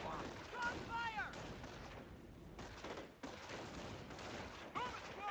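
Squad rifle and machine-gun fire in the Company of Heroes World War II Normandy invasion campaign, rapid crackling bursts with explosions and shouted voices over continuous battle noise.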